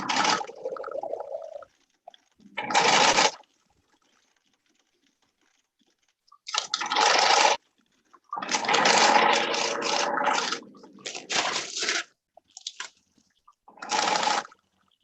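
Sewing machine stitching a fabric kite during a Maverick kite build, heard as several loud bursts of stitching with pauses between, close and alone with no talk.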